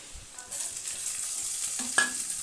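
Grated ginger and chopped green chilli stirred into onions frying in a pan, with a steady sizzle rising after a couple of light scrapes and a sharp utensil clink near the end.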